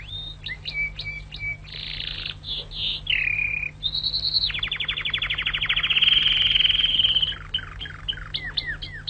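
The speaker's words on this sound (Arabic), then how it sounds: "انتشر تغريد العندليب في القاعة الكبيرة وأثر بعمق في قلوب المستمعين" A nightingale sings in an emperor's great hall in a Danish folk tale, in clear, high trills, whistles and rapid chirping phrases. The song is close and prominent and goes on steadily with short pauses.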